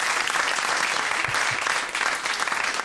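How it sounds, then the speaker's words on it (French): Steady studio applause on a French radio show greeting a correct quiz answer, a dense wash of clapping hands holding evenly for a few seconds. "ça s'applaudit"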